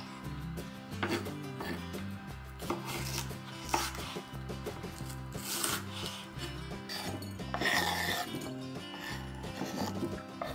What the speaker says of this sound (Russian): Перец буду нарезать тонкой соломкой.